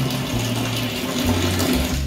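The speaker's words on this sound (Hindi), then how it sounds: "अब देखना ये देखो पानी की स्पीड बढ़ गई" Water pouring and splashing steadily, falling with increased force in a domestic bathing setup, a continuous close rush with a low hum beneath it.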